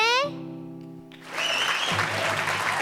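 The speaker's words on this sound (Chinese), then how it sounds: "掌声鼓励" Studio audience at a Hakka-language variety show breaks into applause after a sustained musical tone fades, a dense clapping wash that holds steady to the end.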